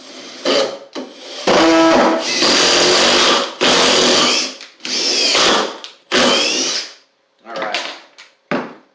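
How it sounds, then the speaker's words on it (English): Makita traditional impact driver sinking 3/4 inch exterior grade screws, loud close bursts of rapid hammering rattle in several separate runs, each a second or so long with brief pauses between, a short voice heard among them. "So I'm just going to be using some 3/4 inch exterior grade screws. So here's the regular impact driver."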